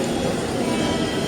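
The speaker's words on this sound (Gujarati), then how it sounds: "મુંબઈ સેન્ટ્રલ સુધી જવાવાળી ટ્રેન" A Vande Bharat Express rolls into Surat station with a continuous low rumble of wheels and carriages, loud and steady over a brief moment.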